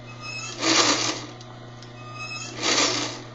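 A sewing machine stitching, running in two short bursts of steady mechanical whirring separated by a pause, close and fairly loud with no talk over it.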